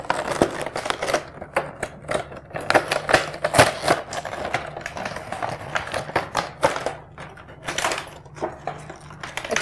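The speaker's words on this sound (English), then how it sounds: "So let me unwrap the Transformer." A Bumblebee Transformers toy being unwrapped from its packaging, giving a busy run of crinkly plastic and cardboard rustles, tears and clicks, close and fairly loud, with no talking.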